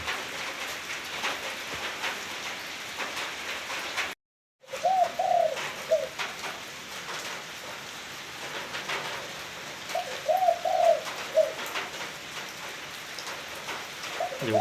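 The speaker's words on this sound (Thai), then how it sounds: "อยู่กับเสียงนกนะพี่น้อง" Doves coo in two short bursts over a steady wash of falling rain, with the calls fairly close and the rain constant throughout, broken only by a moment of silence.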